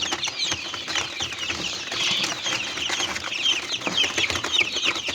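Young chicks being fed mealworms chirp and peep constantly at close range, with soft wing flutters and scuffling among them.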